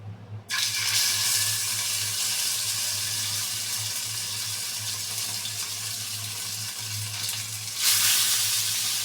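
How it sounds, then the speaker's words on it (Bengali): Marinated tilapia fish frying in a pan, a steady broad sizzle that starts abruptly and holds loud and close throughout, with a low hum beneath and no talk. "মাছটাকে ম্যারিনেট করে রেখেছিলাম এখন এই মাছটাকে ভাজি করব"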